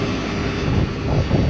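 An engine on a work site drones steadily, a loud, close and constant roar with no breaks or talk.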